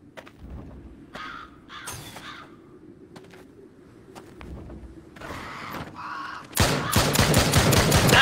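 Shotgun blasts in the VR horror shooter Drop Dead, with scattered sharp shots and creature cries over a low ambient drone, ending in a loud rapid string of shots.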